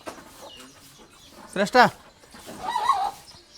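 A chicken about to be slaughtered for a meal clucks and squawks in a couple of sharp bursts close by, with faint voices in the background.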